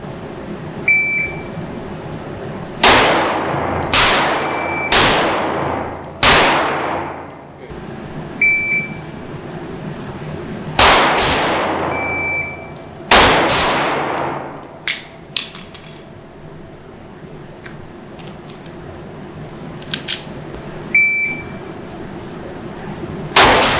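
Shots fired during a shooting qualification, about a dozen loud, sharp cracks spread irregularly with decaying tails, interspersed with short electronic beeps and quiet pauses.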